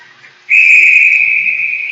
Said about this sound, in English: that whistle was loud